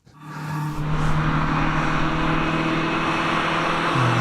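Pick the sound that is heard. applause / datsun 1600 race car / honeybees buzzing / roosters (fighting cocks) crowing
datsun 1600 race car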